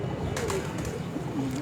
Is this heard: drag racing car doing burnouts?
no